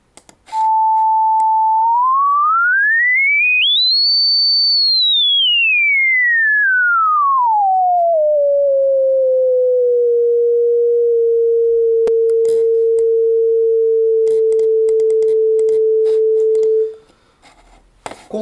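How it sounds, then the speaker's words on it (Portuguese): A pure electronic sine tone sweeping smoothly in pitch, rising steadily to a high peak then gliding back down to a low steady hum that holds before cutting off, clean and alone. "Conforme a variação de frequência, se eu aumento, torna o som mais agudo"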